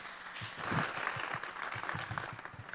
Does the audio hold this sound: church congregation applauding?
yes